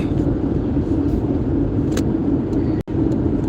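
A car driving along a road, with a steady engine and road rumble heard from inside the cabin and a brief dropout near the end.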